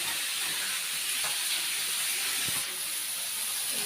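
Small fish fry in a pan, producing a steady even hiss that holds close and fairly quiet throughout, with one faint brief knock and no one speaking.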